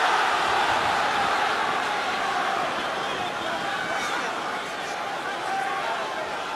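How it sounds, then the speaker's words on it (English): Boxing crowd at the Royal Albert Hall roaring in a steady, dense wall of excited cheering and shouting that holds loud throughout without a break. "Every punch now sending this Albert Hall crowd delirious with excitement"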